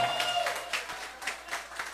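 Bar-restaurant audience at a tribute night applauding Carlos Guzmán, a brief burst of many hands clapping at moderate distance, with a sustained tone fading out underneath at the start.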